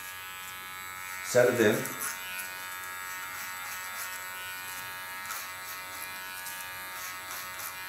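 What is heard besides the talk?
electric hair clipper trimming neckline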